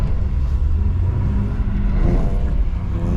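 BMW 320i engine pulling hard in third gear on an ice track, a continuous low droning rumble with slowly rising pitch, loud and close from inside the car.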